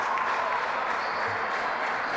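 A good-sized home crowd applauds steadily as the NC Capitals are introduced at a game against the Petersburg Cavaliers, a dense, even wash of clapping filling the whole moment without a break.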